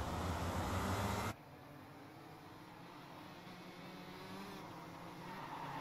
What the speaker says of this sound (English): Real life rolling start here. Very loud, every single car rolling away.